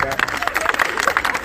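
A group of people clap in a quick, uneven patter at a testimony gathering, with a voice talking over the brief burst of hand claps.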